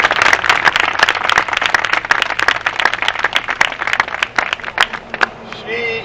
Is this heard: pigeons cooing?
no